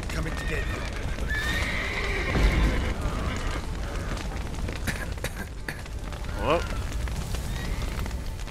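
Horses neigh and whinny near a fire in the video game The Witcher 3, with clip-clopping hooves and a crackling blaze underneath; loud whinnies rise at intervals over a busy, noisy background.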